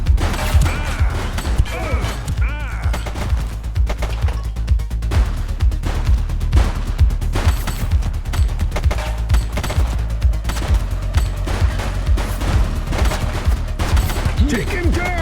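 A shooting suspect fires in The Precinct, a police video game: loud, dense bursts of rapid gunfire crack continuously throughout with almost no pause.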